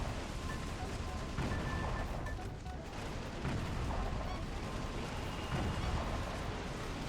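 Relentless gunfire and explosive booms in the video game Metal Wolf Chaos form a dense, continuous barrage for several seconds, loud and unbroken, with faint musical tones buried underneath.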